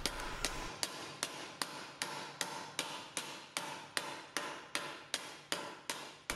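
Sheet metal struck with a hammer on a round T-stake anvil while a reverse curve is shaped, about fifteen sharp ringing blows in a steady, even rhythm, close up and with no voices.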